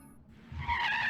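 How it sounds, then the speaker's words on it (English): A black van braking hard in Steins;Gate 0, a short rising tire screech that swells quickly and stays loud at the end, preceded by a low rumble. "a black van pulled up and braked hard at one end of the alley, blocking us in"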